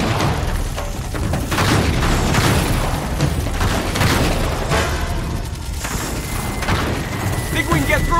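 Gunfire and heavy booms in the Uncharted 3: Drake's Deception action game, scattered shots and thuds in a chaotic firefight, with voices talking over the combat.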